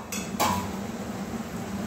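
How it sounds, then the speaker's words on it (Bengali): A metal lid lifted off a cooking pot of fish-head ridge gourd curry, giving one sharp clink followed by a brief clatter, close and fairly loud against a steady kitchen hum. "আবারও 2-3 মিনিট পর আমি ঢাকাটা খুলে দিলাম।"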